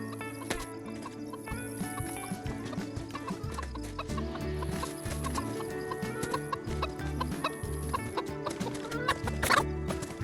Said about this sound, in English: Oh, and also I killed my first chicken.